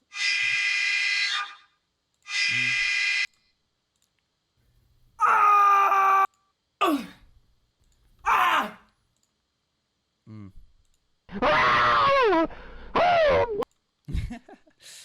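Downloaded scream sound effects play one after another, several separate loud wailing and shrieking bursts with silences between them, each cutting off abruptly.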